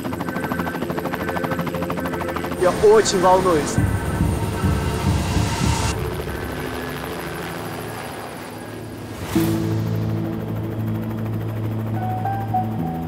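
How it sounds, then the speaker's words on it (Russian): Mi-8 helicopter rotors spinning up for takeoff in the Tian Shan mountains of Kyrgyzstan, a steady loud mechanical drone with rhythmic low thumping throughout, a brief rising whine mid-clip, and a voice speaking briefly over the noise. "Люк задраили. Винты завели, сейчас будем взлетать."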